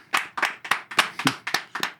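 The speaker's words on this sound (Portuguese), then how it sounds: "Uma salva de palmas." A podcast studio audience claps to welcome a guest: about eight sharp, close hand claps in a steady, even rhythm, with no talking.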